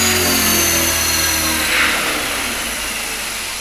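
A Mini Cylon model aircraft on its maiden flight, its small motor giving a steady loud buzzing whine that slowly fades as it pulls away.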